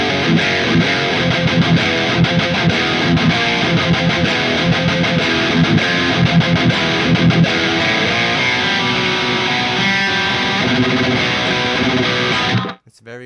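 Heavily distorted electric guitar through a Mesa Mark IV tube amp plays a continuous lead line with sustained notes and fast runs, loud and saturated, cutting off abruptly at the end.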